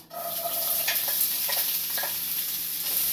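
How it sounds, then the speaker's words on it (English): Onion hitting hot oil in a pan while cooking borscht, a steady close sizzle and crackle with faint stirring scrapes throughout. "I'm going to add in the onion now."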